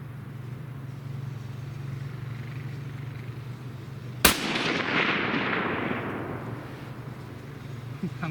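A rifle with a barrel once fouled by a stuck tracer fires a single loud, sharp shot at milk jugs outdoors, echoing and trailing off over steady background hum.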